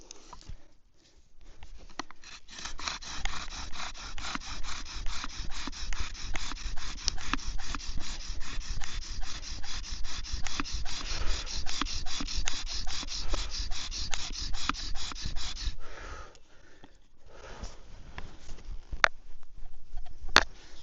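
A bow drill works a white cedar spindle against a white cedar fireboard. It makes a rhythmic back-and-forth rasping friction, close and strong for about fifteen seconds, then pauses and resumes briefly.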